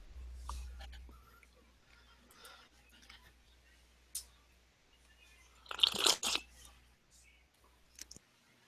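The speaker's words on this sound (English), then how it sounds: "It was me slurping my coffee into everybody's ear." Someone slurps coffee right against the microphone in one short, loud burst, with quiet clicks and faint background noise before and after it.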